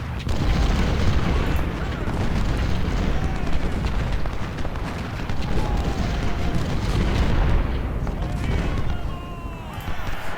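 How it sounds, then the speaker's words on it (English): Artillery fire in the Civil War strategy game Ultimate General: Civil War, at the First Battle of Bull Run: a dense, continuous barrage of deep booms and blasts rumbling steadily for the whole stretch, with no talk. "Artillery, please redirect your fire."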